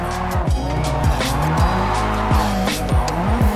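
Tires squeal and the engine revs up and down as a car drifts in the video game JDM: Japanese Drift Master, with repeated sliding pitch sweeps over a loud, steady motor drone.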